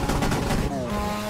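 Sharp exhaust cracks and pops from a damaged drift car in the Assetto Corsa racing game, a dense crackling burst heard up close and loud, alone without talk.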